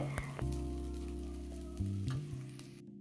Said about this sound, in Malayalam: നമ്മുടെ കോവയ്ക്ക മെഴുക്കൂറ്റൊക്കെ ഏകദേശം സെറ്റായിട്ട് ഫ്രൈ ആയിട്ട് വന്നിട്ടുണ്ട്